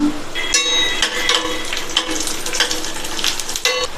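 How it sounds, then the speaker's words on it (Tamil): Cashews and raisins fry in hot ghee with a steady close crackling sizzle, broken by several sharp stirring scrapes of a spoon against the pan for a festival kolukattai recipe. "இந்த ஸ்டேஜில் வந்து உலர்ந்த திராட்சை கொஞ்சம் சேர்த்து வறுத்துக்கலாம்."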